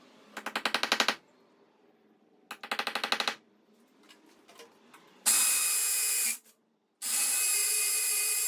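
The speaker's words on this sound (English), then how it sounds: "a good hammer drill and a sharp drill bit, wow, makes a huge difference." Two short bursts of rapid hammering from a hammer drill, some clicks, then two long loud stretches of continuous drilling; close and harsh.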